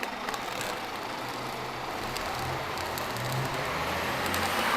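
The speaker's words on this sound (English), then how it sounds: "the bus took off there" A bus at the Limerick Bus & Rail Interchange pulls away with a steady low engine rumble that rises slightly in pitch, heard alongside broad outdoor traffic hiss, fairly close.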